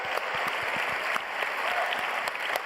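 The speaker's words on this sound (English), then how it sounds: "let's give them a huge round of applause." Dense, steady audience applause fills the hall at the DICE Awards for the nominated video games, a continuous wash of clapping with no talk over it.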